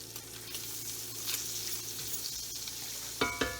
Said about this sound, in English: So I've got that butter in there, and I want to get all those little bits up.